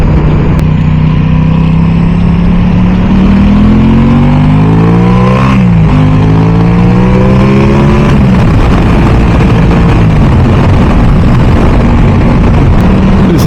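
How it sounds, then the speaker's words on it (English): A motorbike engine rides steadily and loud, its pitch climbing and dipping through gear changes, with broad wind rush over everything on a windy summer day. "Just such a great feeling riding a motorbike summertime."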